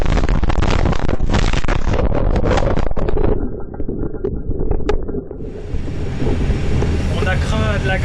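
Strong gusting wind of over 100 km/h during a summer thunderstorm over sunflower fields roars and buffets the microphone loudly, easing into a steadier rush with a voice speaking over the later part.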